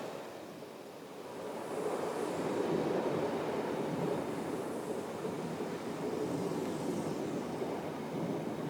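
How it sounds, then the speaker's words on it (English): A Class 47 diesel locomotive hauls an early morning sleeper train from Euston through the Highlands near Aviemore, a broad steady rumble and rush that swells after the first second and holds, heard from nearby with wind noise. "Another Class 47, this time with one of the early morning sleepers from Euston."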